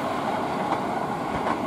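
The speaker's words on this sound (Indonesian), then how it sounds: "Kereta ke arah stasiun Duri, memasuki stasiun Taman Kota." A KRL commuter train rumbles steadily past a level crossing near Taman Kota station, Jakarta, a continuous loud rolling roar with faint rhythmic clatter of wheels on track.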